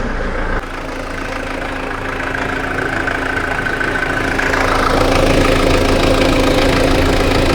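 A Mitsubishi Delica L400 engine idles steadily and loudly close by, with a running fan adding a constant whir that swells slightly toward the end.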